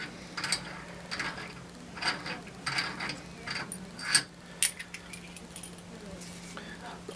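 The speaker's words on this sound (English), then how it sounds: "I'm going to go ahead and unscrew this." A cup lid sealing machine part being unscrewed, giving a string of light metallic ratcheting clicks and rattles in irregular bursts, close by, over a steady low hum.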